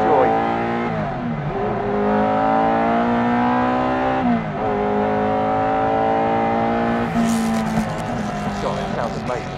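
A Ferrari 308 GTB Group B rally car engine revs hard and close, rising and falling through repeated climbs in pitch, with a brief crackle near the end and a voice partly audible underneath.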